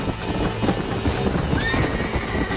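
A horse gallops in the Western video game Red Dead Redemption, with steady clip-clop hoofbeats and a neigh over a busy game soundscape, close and fairly loud throughout.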